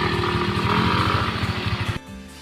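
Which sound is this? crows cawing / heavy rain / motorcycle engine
motorcycle engine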